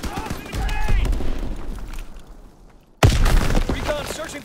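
Gunfire in Call of Duty WWII multiplayer on an Egypt map: a clattering spray of shots that fades out, then one sudden loud blast and more firing, with game voice callouts mixed in.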